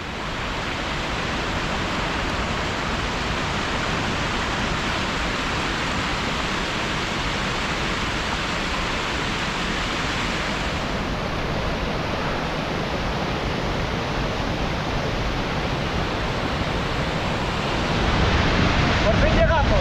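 Rushing water roars steadily and loudly at Oyu la Madre, the spring source of the Casaño river in the Picos de Europa, Asturias, a dense continuous wash that swells slightly toward the end.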